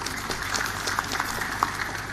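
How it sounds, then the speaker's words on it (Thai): Indoor audience applauding at a Thai seminar on global heating and drought, a brief burst of dense, moderately loud clapping from a crowd. "ช่วยกันทำมาปรบมือให้คนจันทร์หน่อยครับ"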